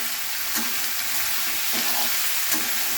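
Spice masala with salt sizzles steadily in a frying pan for a cauliflower and potato curry, with three evenly spaced scrapes of a stirring spoon over the close, continuous frying hiss; nobody speaks.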